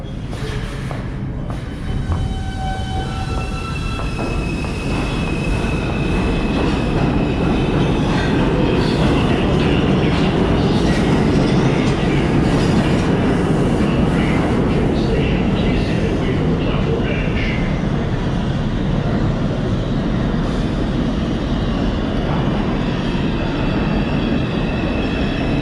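New York subway train running underground, a loud continuous roar of wheels on rail with high squealing tones and rhythmic clatter throughout, a few quiet voices briefly audible beneath it.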